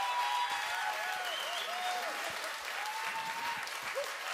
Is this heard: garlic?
no